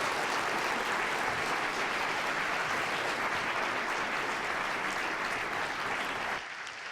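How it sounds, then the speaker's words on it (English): Audience applauding at the end of a science festival talk, dense sustained clapping from a large crowd that carries on steadily, then drops off abruptly near the end. "Give him a round of applause."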